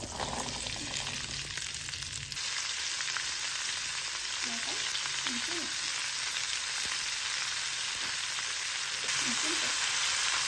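Pieces of vakkai (carissa) fry in a little oil, giving a steady close sizzle with faint stirring and a few soft voices in the background.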